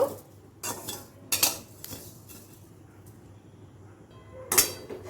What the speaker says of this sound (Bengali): যে মশলাটা রোদে দিয়েছিলাম সেটা একবার সেঁকে নেব